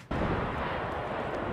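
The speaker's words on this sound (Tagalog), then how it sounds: "Yan po ang kuha ng pagsabog ng La Palma Volcano sa Spain." Volcanic eruption of La Palma in Spain, heard as a continuous loud, broadband roar that bursts in after a brief quiet moment and rumbles on steadily without letup.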